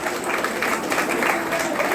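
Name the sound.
audience applause for a student at a ceremony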